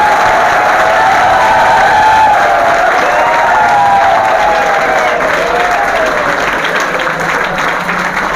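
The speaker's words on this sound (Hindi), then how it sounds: "एक भाई इतनी जोर तो ताली बजा दो कि सारे बड़का ने बेरा पड़ जाए।" A seminar audience bursts into loud, sustained applause, mixed with cheering and whoops. The sound fills the room evenly for several seconds and fades slightly at the end.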